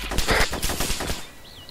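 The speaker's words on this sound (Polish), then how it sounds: "Dostajemy strzał." Rapid automatic gunfire bursts from a video game, loud and close, a quick string of shots over about a second that then breaks off, with a brief synthetic whistling tone after.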